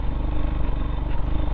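A motorcycle engine labouring up a steep hill road, a steady low rumbling drone with rough, uneven texture and rattling, close and continuous throughout.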